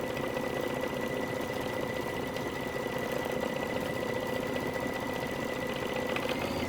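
Kimberbell embroidery machine stitching a tea towel, a fast steady mechanical chatter and hum that runs evenly without pause, close and moderately loud.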